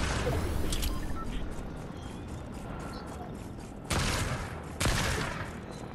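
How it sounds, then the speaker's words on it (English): Fortnite gunfire crackles in rapid video-game bursts, loud and close, with two sharp separate blasts near the end over a dense background of battle noise. "I'm getting shot from over here."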